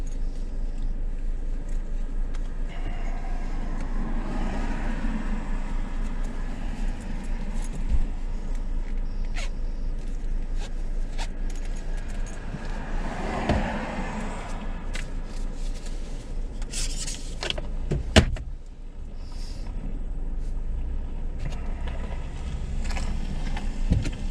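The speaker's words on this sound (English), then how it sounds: "Going through dippy, patched, or broken pavement really sends quite the symphony of sounds through the body and the suspension." A 2022 Toyota Corolla rolls over dippy, patched and broken pavement, giving a steady low cabin road rumble broken by scattered suspension knocks and rattles, with a heavier thump near the end.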